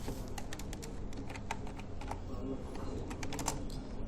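Fingers type on a computer keyboard in quick, irregular runs of light clicks, faint and steady over a low background hum.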